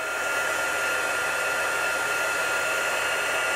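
A heat gun blows over embossing powder on a card, producing a steady, even whooshing hum held at constant loudness close by, with no talking.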